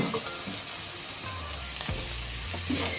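Eggs sizzle steadily in a covered pan while cooking for a drumstick-leaf egg curry, a continuous close frying hiss with faint crackles and no talk.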